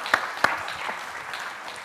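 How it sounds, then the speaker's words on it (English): An audience claps, with a couple of sharp early claps before a steady patter of applause fills the room. "I think that deserves a round of applause."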